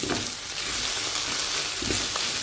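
Egg and vegetables frying together in a pan while being stirred, with a continuous close sizzle and occasional soft scraping of the spoon, no voices.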